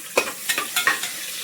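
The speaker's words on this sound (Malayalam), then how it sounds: "ഓയിൽ ഒഴിച്ച് നമുക്ക് കുറച്ച് ജീരകം, നല്ല ജീരകമാണ് ഇട്ട് കൊടുക്കുക" Cumin seeds and small onions fry in hot oil with a close, crisp sizzle, punctuated by quick repeated scraping strokes of a spoon stirring in the pan.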